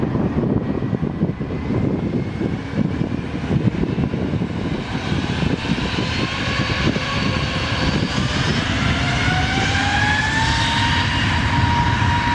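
A jet airliner takes off from Lisbon airport, a loud, steady engine roar filling the scene throughout, with rising whining tones climbing as the aircraft accelerates and departs.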